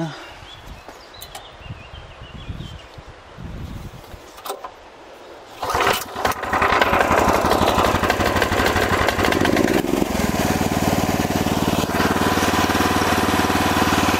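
Handling and footstep noises, then the small engine of a tracked motorized wheelbarrow catches after being overturned and runs loud and steady with the choke on while burning oil, its pitch shifting about four seconds later.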